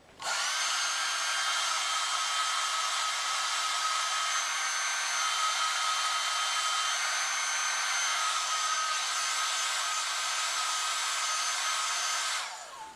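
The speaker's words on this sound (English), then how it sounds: "And now we need to hair dry this." A hair dryer blows steadily and loudly for about twelve seconds, drying color applied to scuffed leather during a repair, a constant whine with no talking.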